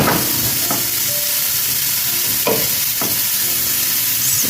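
Carrots fry loudly in a pan with a steady, close sizzle and hiss, and a few stirring scrapes break through now and then.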